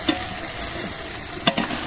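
Chicken biryani being stirred in a large pot cooked outdoors in a big batch, a close scraping and sizzling shuffle with a few sharper clanks of the ladle against the pot, no talking.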